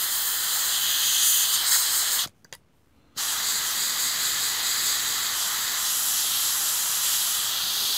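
An airbrush sprays paint onto a small 1/72-scale Focke-Wulf model aircraft, giving a steady, close airy hiss that cuts out for about a second before resuming.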